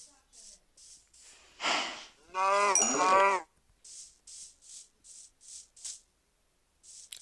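A cow in a video game gives one long, wavering moo right after a short noisy snort, set against light repeated clicks and tapping.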